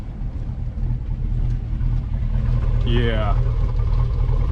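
A Chevrolet Suburban 2500 engine idles roughly and low, a steady close rumble that runs throughout, with a person speaking briefly over it.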